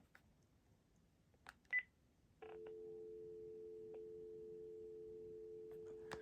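An RCA 25424RE1-A telephone set releasing hold gives a couple of faint short beeps, then a steady dual-tone signal that holds for several seconds, close and clean with no talk.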